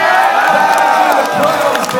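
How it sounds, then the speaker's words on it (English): A tournament crowd at an MLG Anaheim gaming event cheering and shouting continuously, a dense roar of many voices at steady loudness throughout. "The crowd has been electrifying all weekend long."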